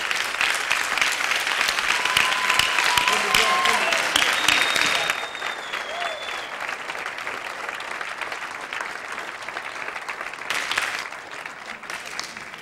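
A hall full of people at a local political candidacy presentation gives strong, sustained applause, dense clapping that eases slightly midway and continues with a few whistles and voices mixed in.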